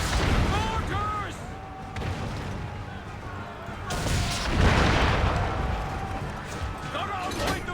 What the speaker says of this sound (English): Got to avoid the mortars, sir!